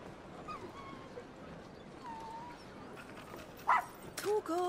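A dog barks in the video game Final Fantasy XVI, a couple of short, fairly loud yelps near the end, heard over a low ambient game backdrop.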